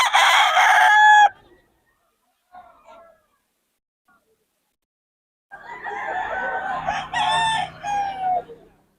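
Fighting roosters crow loudly and close by, one call at the start and another stretch of overlapping crowing and clucking later, separated by near silence with faint distant calls.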